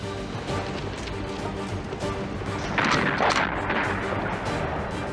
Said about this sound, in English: the Japanese unleash heavy mortar, sniper, and machine gun fire